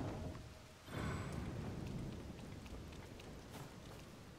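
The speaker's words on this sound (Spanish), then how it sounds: "Porque como está tronando." A rainstorm in the video game Zelda: Tears of the Kingdom, with steady rain hissing throughout and a low rumble of thunder swelling near the start before the rain carries on alone, faint overall.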